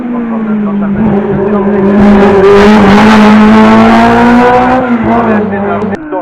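A historic racing car from the 1980s, in original livery, passes close and loud at the Bagnols-Sabran hill climb, its engine note rising and swelling to a peak before fading at a change of direction.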